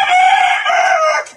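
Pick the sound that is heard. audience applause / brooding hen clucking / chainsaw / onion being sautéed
brooding hen clucking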